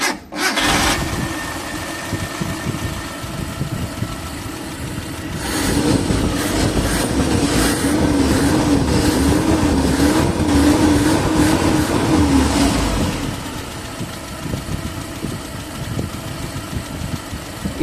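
Mitsubishi L300 van engine cranks and starts, then settles into a steady, rough idle that grows briefly louder before easing off, close by with no talking.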